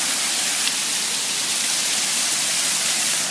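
A little waterfall pours in a steady, dense rush of broadband water noise, close and constant with no voices.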